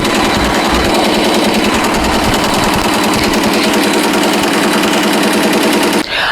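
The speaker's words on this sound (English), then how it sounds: "she's still stitching along just fine" A Tajima embroidery machine stitching out a patch chatters in a rapid, steady needle rhythm, loud and close and mechanical, continuing unbroken for about six seconds before stopping abruptly.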